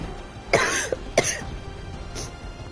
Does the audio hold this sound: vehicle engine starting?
no